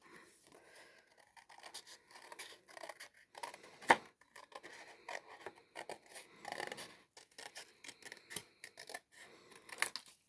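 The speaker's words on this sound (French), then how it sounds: "vous découpez une forme de montagne" Scissors snip a mountain shape out of paper, a close, quiet run of irregular crisp cuts and rustles with one sharper snip partway through and short pauses between bursts, no voices.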